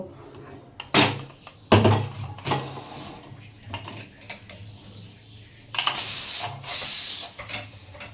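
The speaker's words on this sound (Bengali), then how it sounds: "এবার আমি প্রেশারের ঢাকনাটা খুলে দেব" A pressure cooker holding jackfruit is opened after resting. Several metallic clanks and knocks from the lid are followed by a loud rush of hissing steam near the end.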